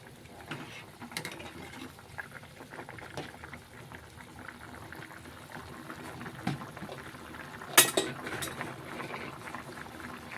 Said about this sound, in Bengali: ঝোল ফুটে এসেছে, একটু নাড়াচাড়া দিয়ে দিচ্ছি